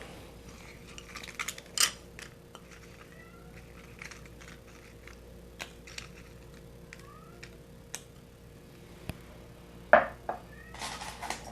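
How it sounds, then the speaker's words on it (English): A house cat meows faintly several times, its short cries scattered over a low steady hum, along with light clinks and ticks of small objects and no talking. "If you guys can hear me, please or hear the cat, please let me know in the comment section."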